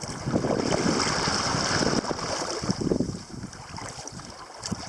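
Wind buffets the microphone and waves slap against a canoe crossing a lake, a rushing broadband roar with rhythmic splashes that ease off toward the end.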